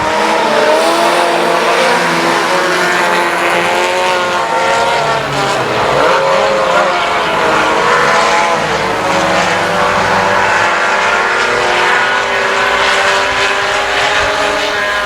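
Race trucks roar off the start at a speedway, a loud, sustained blend of revving engines at full throttle, with no voices over the noise.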